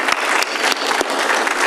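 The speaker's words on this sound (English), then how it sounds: "We can still clap." Audience applause in a city council chamber as names are read out, a steady patter of many hands with a few sharper claps standing out, continuous through the short stretch.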